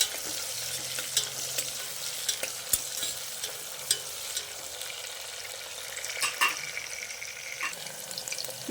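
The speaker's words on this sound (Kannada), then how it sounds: "ಈರುಳ್ಳಿ ಸ್ವಲ್ಪ ಫ್ರೈ ಮಾಡ್ಕೊಳ್ಳೋಣ" Onions frying in a pan for a pudina green mutton gravy, a bright, steady sizzle with scattered clicks and scrapes of a spoon stirring, moderately close and without speech.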